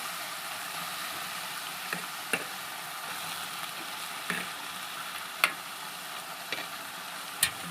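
Chopped ridge gourd cooks in a pot with a steady soft sizzle and bubbling, while a few sharp ticks and clinks stand out over the continuous hiss. There is no talking.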